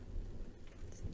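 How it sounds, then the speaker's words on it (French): Thunderstorm coming through an open window indoors: a dense low rumble of rain with a deeper thunder swell near the start and another near the end, no voices. "il y a un bel orage, là"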